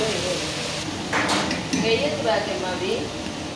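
Mirchi masala curry stirred in a pan with a spoon, giving intermittent scraping and clinking of utensil on metal over a soft sizzle, with someone talking throughout.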